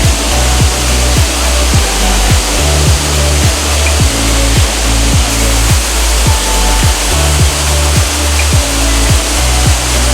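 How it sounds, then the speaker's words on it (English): Amicalola Falls in Georgia, the state's tallest waterfall, roars as a loud, steady wash of rushing water, with a faint rhythmic low thumping underneath and no voices. "It's the tallest waterfall in Georgia, as it says online."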